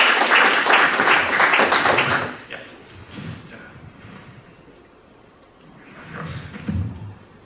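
A burst of applause from a conference audience fades after a few seconds, followed by quiet shuffling and a few faint claps.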